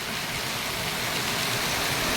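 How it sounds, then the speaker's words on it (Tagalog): Heavy rain from Typhoon Carina pours down in a steady, dense roar, loud and continuous throughout with no voices. "Sobrang malakas ngayon ang ulan mga guys dahil sa may bagyo tayo no."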